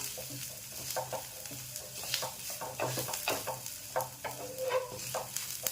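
Coconut roasting with onions in a pan for veg kolhapuri: continuous close sizzling and frying crackle under busy, irregular stirring scrapes, steady and moderately quiet throughout.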